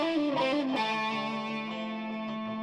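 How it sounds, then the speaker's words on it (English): Ibanez JTK-2 Jet King electric guitar played through an OS2 distortion pedal, sustained overdriven chords ringing out thick and saturated, a single strum decaying smoothly over a couple of seconds with no voice. "OS2 distortion."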